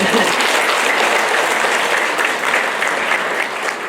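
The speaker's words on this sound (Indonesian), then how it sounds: "Mari kita aplaus dulu untuk semua" An audience at a provincial governor's visit with education officials in Ende claps steadily for several seconds, dense and fairly loud, with a voice faintly under the applause.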